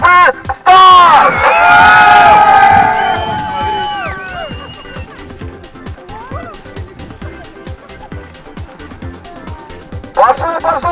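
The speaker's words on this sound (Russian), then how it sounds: "Аплодисменты всей толпы" A crowd bursts into loud cheering and whoops at the start of a homemade-vehicle race, where a three-ski motor carriage sets off. The roar peaks early, then thins into scattered voices and babble, and a brief shout flares again at the close.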